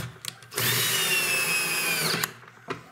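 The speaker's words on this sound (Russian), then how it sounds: "Теперь обратно нужно закрутить те болты, которые были." A power drill runs for about a second and a half, steady and close, driving bolts back into the tub of an LG washing machine, with faint clicks of handling before and after.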